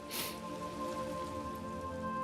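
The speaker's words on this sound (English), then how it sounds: "It's raining in Daggerfall yet again when I'm streaming." Steady rain patters in the video game Daggerfall, a soft continuous hiss of drops under a faint constant background hum, with no talking.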